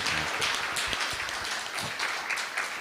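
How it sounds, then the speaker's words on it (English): An audience claps steadily at a partnership celebration event, a dense, continuous patter of applause that holds at an even level throughout with no voices over it. "Shall we give him a round of applause?"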